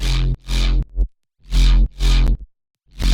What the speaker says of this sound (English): But Sam, you just added distortion and OTT before.